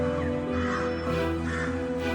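European crows caw in loud, harsh, repeated calls that overlap in a steady chorus with no pause, set against a noisy outdoor background.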